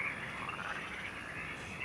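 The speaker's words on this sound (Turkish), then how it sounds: "Sabaha kadar otur burada kurbağa mı dinleyeceğiz ya?" Frogs croak in a dense, continuous chorus at night, a steady ringing trill heard alone at moderate distance.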